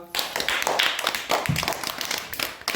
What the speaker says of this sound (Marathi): जिंकली टाळ्या वाजवा